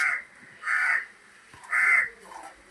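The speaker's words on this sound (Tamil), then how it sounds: "காக்கா" A crow caws twice, two loud, harsh, drawn-out calls with a short gap between them, close by and alone with no talk.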